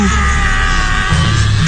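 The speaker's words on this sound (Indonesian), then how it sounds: "Suara teriakannya melengking di telingaku." A man's shrill, sustained scream for a horror story, loud and close, a harsh strained yell that holds steady throughout with no pauses.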